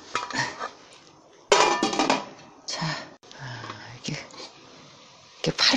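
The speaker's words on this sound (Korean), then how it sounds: "이제 끓이기 위해서 뚜껑을 덮어야죠" A metal lid clanks onto a pot of sikhye (sweet rice drink) in a home kitchen, sharp close clatters and knocks in bursts with quiet pauses, amid low murmuring voices.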